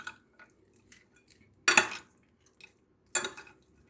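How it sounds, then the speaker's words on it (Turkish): Two spoons stir and toss a fried potato salad in a bowl, giving soft scraping clinks and two sharper metallic clatters, close and otherwise quiet. "Şöyle güzel bir şekilde iki kaşıkla iyice karıştırıyoruz."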